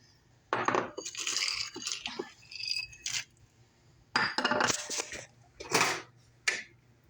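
Frozen peas tipped into a pan of chicken that has been simmering for about 15 minutes in a rustic Spanish kitchen. There are several bursts of hard rattling, clinking clatter with short quiet gaps between them, fairly close and moderately loud.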